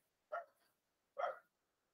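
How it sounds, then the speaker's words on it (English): A dog barks twice indoors, two short separated barks about a second apart, somewhat distant and quiet, with silence between them and no talking. "My dog is going nuts."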